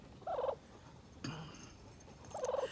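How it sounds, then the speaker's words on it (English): A domestic homestead turkey gobbles twice, each a short rapid warbling burst, close and clear, with a brief low sound between the calls and quiet surroundings. "Turkey."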